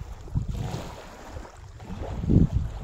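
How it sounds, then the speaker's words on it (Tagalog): Choppy sea waves and wind at Balete Beach in Pagbilao, Quezon at night, with gusty wind rumble on the microphone and a couple of swelling wave surges, no talking. "Pero malinaw pa rin naman ang dagat kahit medyo maalon"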